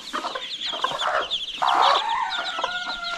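Konkan native village hens and their chicks cluck steadily up close, with high peeping from the chicks threading through the clucks and a louder hen call near the middle.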